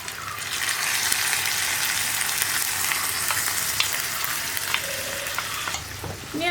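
Hot water swirled from a mixer jar with ground paste pours into a simmering Kerala chickpea curry (kadala curry), producing a loud, steady sizzle and bubbling hiss that runs unbroken throughout.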